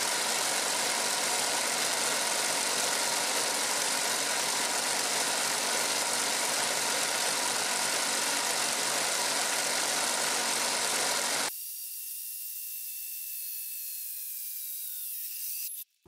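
A motor drives a 3D-printed sprocket and chain on a test rig, a loud, steady mechanical whir with ratcheting clatter for most of the span, then an abrupt drop to a quieter whine with a faint falling tone before it cuts out.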